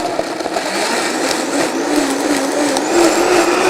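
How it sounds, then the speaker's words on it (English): A kitchen blender purees Sungold tomatoes, a loud steady whirring motor with a slight pitch shift as the contents churn, heard alone without talk. "Sungold tomatoes in the blender."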